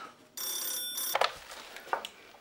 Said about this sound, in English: is someone going to answer the phone?